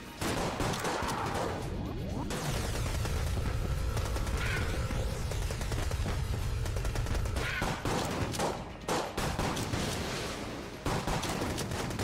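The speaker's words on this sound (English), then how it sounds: "Do like the machine pistol for those guys." Machine pistol gunfire in the twin-stick shooter Enter the Gungeon, a steady loud rattle of rapid shots layered with game effects and crashes, running almost continuously through the whole stretch.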